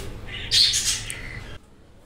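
Birds squawk and call on a rooftop in a short, fairly close burst for about a second, then the calls cut off and only faint background hiss remains.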